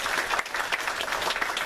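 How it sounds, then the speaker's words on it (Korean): Church congregation at a Sunday service claps to congratulate a member for reading through the Bible, a brisk, fairly steady burst of many hands with slight swells. "우리 박수로 축하하도록 하겠습니다"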